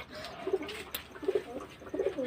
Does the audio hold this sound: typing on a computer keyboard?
no